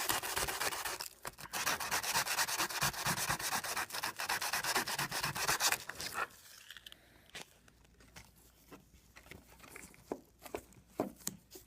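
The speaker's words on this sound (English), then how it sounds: "I'm just gonna sand all of it" A damaged plastic car bumper on an Acura RSX is sanded by hand, with steady rapid rasping strokes up close for about six seconds, then quieter scattered scrapes and taps.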